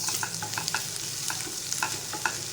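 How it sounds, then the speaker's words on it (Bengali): Onion frying in a pan: a continuous soft sizzle with repeated light scrapes and taps of a spatula stirring the pieces at an irregular rhythm. "এখানে পেঁয়াজটা ফ্রাই করতে দিয়েছি।"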